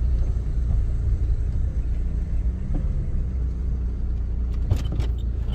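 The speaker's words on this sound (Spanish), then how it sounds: "que pasen muchos carros" Cars pass along a street in Acapulco, Mexico, as a continuous low traffic rumble with a few sharp clicks and rattles near the end.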